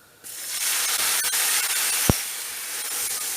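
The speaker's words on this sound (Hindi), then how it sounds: "तो अब इसमें दूध डालेंगे।" Milk is poured into hot roasted vermicelli and sets off a loud, sudden hiss that holds steady as a broad sizzle, with a single sharp clink partway through.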